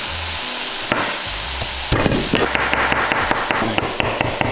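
Vegetables and garlic dry-frying sizzle and crackle in a hot pan, with sharp pops and clattering stirring or scraping hits growing busier partway through.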